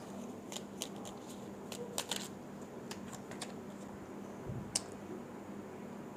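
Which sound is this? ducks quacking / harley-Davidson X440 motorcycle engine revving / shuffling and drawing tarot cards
shuffling and drawing tarot cards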